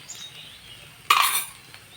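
A spatula stirs turmeric and spices in a pan while cooking Bengali murighonto. A single short, scraping stir bursts out midway through an otherwise quiet background.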